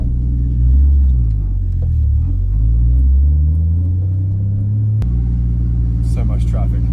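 An old Mazda SA22C, riding too low for speed bumps, reverses along a street with a steady low engine rumble and shifting drone that stays close and continuous the whole time.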